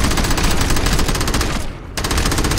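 Dense, rapid automatic gunfire from the video game Crackdown during player-versus-player combat sounds loud and nearly continuous, with a brief gap before the shooting resumes.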